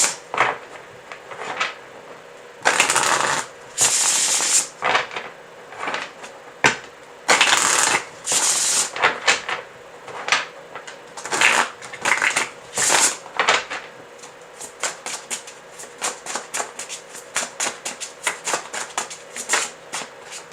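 Tarot cards shuffled by hand in repeated bursts, loud and close, with riffles and crisp slapping flutters, some cards flying loose, then a fast run of rapid clicking snaps.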